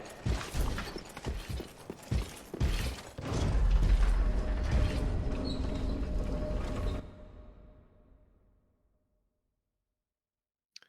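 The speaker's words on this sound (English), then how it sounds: "We're gonna take the elevator." A lift in the video game Dark Souls 3 grinds and rattles as it starts with clunks, then a loud low mechanical rumble runs steadily for several seconds before stopping and fading out.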